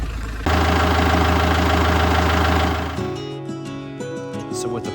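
A boat's port engine, newly commissioned, starts up and runs loud and steady at idle with a heavy low throb, then drops to a lighter, uneven rumble as the throttle is worked.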